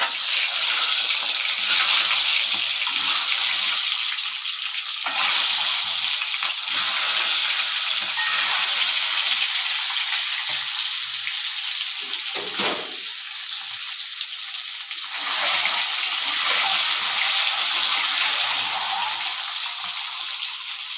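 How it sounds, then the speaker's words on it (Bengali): Eggs frying in hot oil on high flame for a homestyle egg curry give off a loud, steady sizzle that holds for the whole stretch, close by, with a brief spatter-like surge midway and no talking. "3 মিনিট এগগুলোকে আমি এইভাবে ফ্রাই করে নিলাম।"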